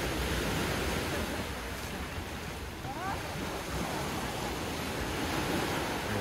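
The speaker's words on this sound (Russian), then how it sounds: "Море шумит." Black Sea surf washing onto a beach in Sochi on a summer morning, a continuous broad roar of waves mixed with wind buffeting the microphone, steady and fairly close with no pauses.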